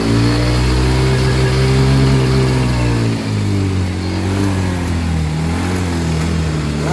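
A Yamaha Mio i125 scooter engine running close and loud, its steady drone wavering and dipping unevenly as it misfires and shakes, with a brief stumble partway through, no talk.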